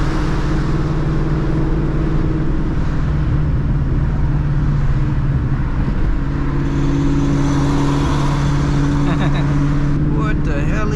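Loud Ford Mustang Cobra engine heard from inside the car during power-shift practice, a continuous heavy drone with pitch rising and falling through gear changes, and voices talking over it.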